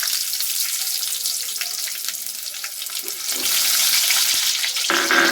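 Onions sizzle steadily in hot oil in a pan, the same oil used to fry paneer for matar paneer. The frying is a loud, continuous hiss that swells toward the end, and no one talks.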